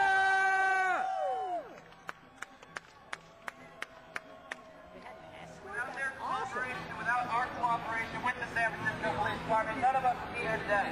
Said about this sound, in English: And give another cheer for the Constitution